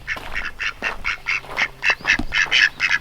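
Several ducks quack in rapid, overlapping bursts on a farm, close by and fairly loud, with no talking.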